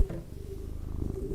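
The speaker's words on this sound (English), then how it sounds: "This is the big kitty right here." A big cat purrs close up, a soft, low, rhythmic rumble that keeps going steadily with no talking.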